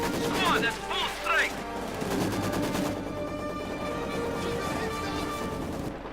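Artillery and Maxim machine gun fire from the Company of Heroes 2 video game, with dense overlapping bursts and booms under a continuous battle din and some music-like tones, moderately loud throughout.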